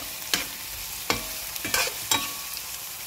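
Chopped onions frying in a little leftover fish-frying oil for a hilsa curry, a soft steady sizzle broken by four or five sharp scraping stirs of a spatula in the pan, close and moderately loud, with no talking.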